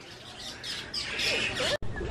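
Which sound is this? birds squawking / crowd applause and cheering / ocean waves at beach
birds squawking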